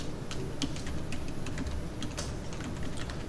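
Zoom commands are typed on a computer keyboard in a CAD program, a run of light, quick key clicks close by over a low steady background hum.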